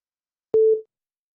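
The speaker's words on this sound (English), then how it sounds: "Please leave a message after the tone." A single steady electronic voicemail beep sounds after a recorded greeting, loud and clean, lasting about a quarter second before cutting off into silence.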